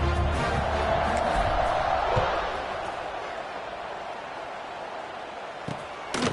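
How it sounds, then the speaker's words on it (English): A large stadium crowd at a college football game, Coastal Carolina against Marshall, gives off a loud, dense roar that eases into a steady murmur, with a sharp thump near the middle and another near the end. "this crowd is buzzing after that last score"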